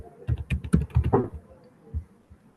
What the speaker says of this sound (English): I'll just enter my password